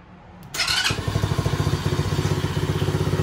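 A 2021 Coolster 110cc kids ATV starts up with a brief cranking burst, then settles into a steady, close, rhythmic putter of the small engine idling, with no talking over it.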